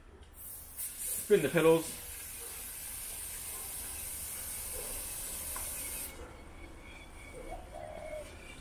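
Aerosol chain cleaner sprays onto a bicycle chain in a long, steady, close hiss after brief talking.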